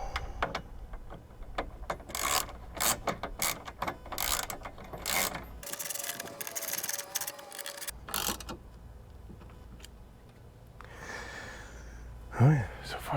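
A ratchet wrench turns a 5 mm hex bolt during a GoRhino lightbar install on a Jeep Gladiator, producing a series of close, crisp clicking bursts with pauses between turns, and a person breathes and speaks briefly.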